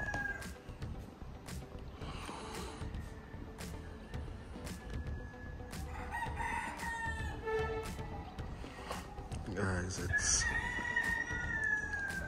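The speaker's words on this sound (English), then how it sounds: "you can just hear the chicken them, the rooster them" Roosters crow repeatedly and chickens cluck early in the morning in Portland, Jamaica. The crows are moderately distant and rise over a steady outdoor ambience, with a brief spoken voice.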